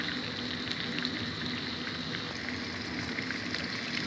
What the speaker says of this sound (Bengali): ফার্স্টে আমি এই চিকেনগুলোকে একটু লাল লাল করে ভেজে নিব।